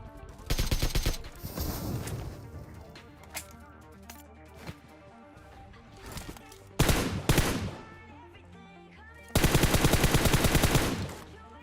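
AK rifle fire in the game PUBG: several bursts of rapid automatic shots, loud and close, with shorter scattered shots and quieter game sounds between them.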